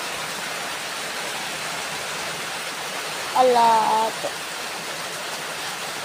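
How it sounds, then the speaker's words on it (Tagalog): Heavy rain pours steadily as a dense hiss throughout, with a short spoken word partway through. "Lakas ng ulan eh."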